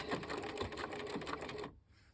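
Sewing machine stitching a zippered cushion back chatters in rapid, even needle strokes up close, then stops abruptly near the end.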